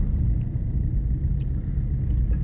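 A four-wheeler car drives through a village, its engine and road noise forming a steady, loud low rumble throughout, with faint brief higher clicks above.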